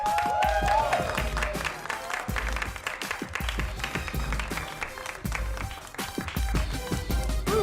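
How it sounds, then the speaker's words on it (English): Audience at a Chicago stand-up comedy show applauding as a comedian comes to the stage, clapping mixed with loud thumping walk-on music and some voices. "Ladies and gentlemen, coming to the stage, very funny man."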